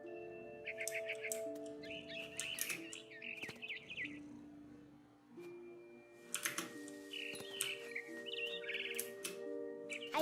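In the video game What Remains of Edith Finch, bird chirps and tweets repeat in short bursts over steady sustained musical tones, along with clicking like keyboard or controller input.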